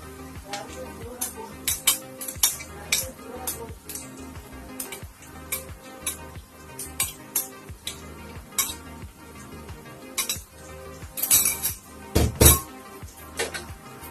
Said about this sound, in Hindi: अंडे को इसमें मिक्स करेंगे